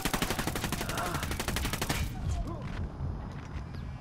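Rapid gunfire from a new gun in a video game, a dense burst of close, loud shots for about two seconds, then quieter game sounds and rumble.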